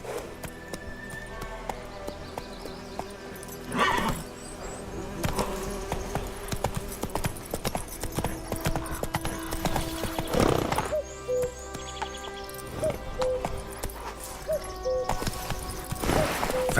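A horse gallops in the video game The Witcher 3, its hooves a steady clip-clop rhythm at moderate distance over background ambience, with occasional louder bursts.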